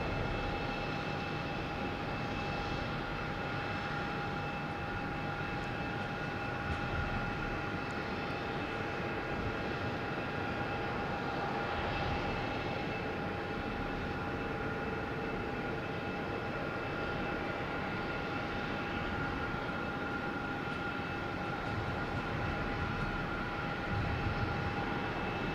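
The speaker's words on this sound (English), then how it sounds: "All right, we have JetBlue and A220 heading to Richmond," A JetBlue Airbus A220 jet at Boston Logan Airport gives off a steady, distant engine drone with faint sustained whining tones, unbroken and even throughout.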